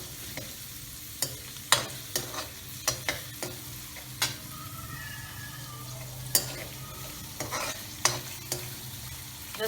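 Chopped onions, garlic and vegetables sauté in a hot pan for noodles and fried rice: a steady sizzle broken by sharp scrapes and clicks of a spatula stirring at irregular intervals.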